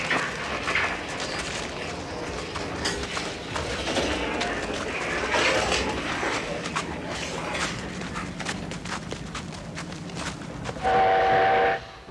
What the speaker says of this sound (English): Here's a steam locomotive of a kind that's popular among railway buffs everywhere, and which has been built in China since the 50s.